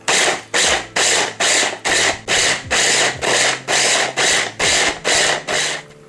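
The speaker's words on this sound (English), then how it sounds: "Now we're going to grate this until it's between fine and coarse." Carrots grated by hand on a grater, a close series of about a dozen rhythmic scraping strokes, roughly two per second, each rasping pass followed by a brief pause, with no talking.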